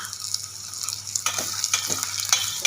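Onions frying in a pan for vegetable sambar, a steady bright sizzle with repeated spatula stirring strokes growing busier, close and clear with no talking.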